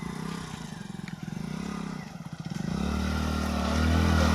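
A motorcycle riding through water near a dam in hilly country, its engine chugging and rising into a louder, steady rev with splashing and clatter, heard close up and without clear speech.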